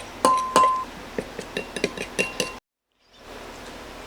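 Breadcrumbs soaking in milk are stirred with a utensil in a bowl, giving a run of close, bright clinks and scrapes against the dish that stop abruptly, leaving quiet room tone.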